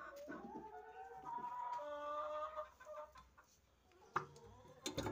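Chickens being sold cluck and chatter together, a close, busy mix of calls over a steady background murmur, with a few sharper clucks near the end.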